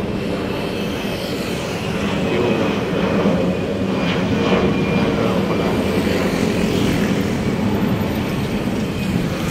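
An airplane passes overhead in Makati near a reclamation area in the Philippines, a steady, fairly loud broadband roar that holds for the whole stretch with no voices over it.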